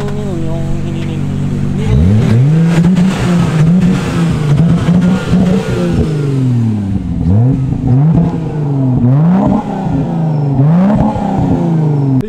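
A car engine fitted with a Blitz exhaust revs loud and close in repeated rising and falling pulls, heard alone without talk.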